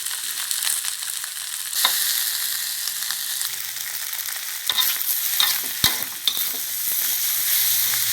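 Shrimp fried rice with Maggi sauce sizzles and is stirred in a hot pan, a steady close frying hiss broken by scraping spatula strokes and a few sharp clanks.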